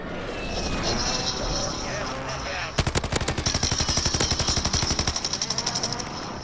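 A light machine gun fires a long, rapid, steady burst in Call of Duty Warzone after a few seconds of ambient game noise, with each round loud and distinct at close range.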